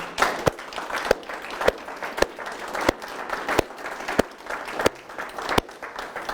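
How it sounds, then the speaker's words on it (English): A small audience at an evening school community presentation on vaping applauds the panel, with scattered crisp claps rising over a dull room murmur, irregular and moderately close. "can we give a round of applause to our panel here tonight?"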